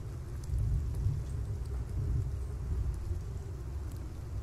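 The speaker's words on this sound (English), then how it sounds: "Oh, it's starting to rain." Steady rain from a storm in the video game Outerstellar, set in a barren wasteland, forms a continuous low rushing wash with a faint distant rumble, moderately loud and unbroken with no voices.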